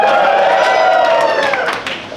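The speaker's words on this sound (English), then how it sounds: "If you think it's Daly City, cheer." A comedy club audience cheering and clapping loudly and up close, a dense burst of applause and shouts that holds steady for about two seconds before tapering slightly.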